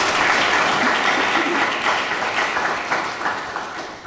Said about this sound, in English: Please give these women a wonderful round of applause for being here tonight.